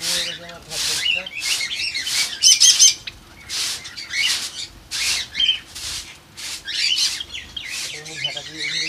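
Java sparrows in a cage give a busy run of sharp, close chirps and squawks in quick irregular bursts, with some wing-flapping and rustling.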